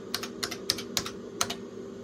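Typing on a 40-year-old IBM PC keyboard, a handful of crisp, loud clacking keystrokes in an uneven rhythm with short pauses between them and no voices.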